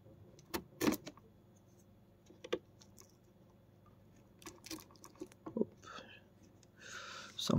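Cardboard prize box for an Ichiban Kuji lottery being opened by hand, with scattered rustles, scrapes and sharp tearing bursts between quiet pauses, building to louder ripping at the end.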